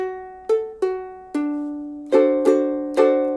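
Ukulele plucked notes giving way to fuller strummed chords in a bouncy down-up rhythm, bright and close, with no voices.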